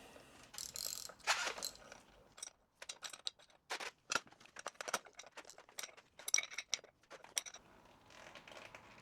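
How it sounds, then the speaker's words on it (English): A 22mm spanner and socket work an air ride bolt on a MK1 Volkswagen Caddy, giving faint, irregular metallic clicks and ratcheting taps with short quiet gaps between bursts. "22mm spanner and a socket will do the job."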